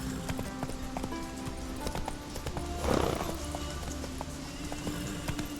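Roach, the horse in Witcher 3, gallops with rapid, even hoofbeats under ambient game music, and a brief snorting whinny swells near the middle.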